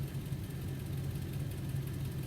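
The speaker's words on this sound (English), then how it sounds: "The truck is still running. You can hear it clunking away." A truck's engine idles steadily at a forest campsite, a low continuous rumble with a faint rhythmic knocking, fairly close and unbroken, with no voices.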